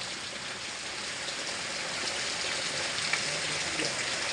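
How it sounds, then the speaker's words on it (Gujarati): Heavy rain pouring steadily in the evening, a dense, even hiss of water that holds at the same level throughout, with no voices. "ફૂલ વરસાદ ચાલુ છે બધું બોળા ભરાઈ ગયો છે"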